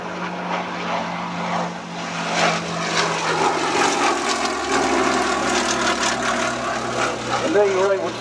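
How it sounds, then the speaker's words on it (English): A vintage aircraft powered by an 870 horsepower Bristol Mercury 20 nine-cylinder radial engine flies past at an air show. The engine drones steadily and swells as it nears, and an announcer talks over it. "Something behind is an 870 horsepower Bristol Mercury 20 engine, a 9-cylinder radial"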